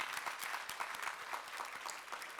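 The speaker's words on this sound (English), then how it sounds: "Can we give ourselves a round of applause?" A room full of guests at an International Women's Day celebration bursts into steady, even applause, a dense patter of many hands clapping at moderate volume with no voices over it.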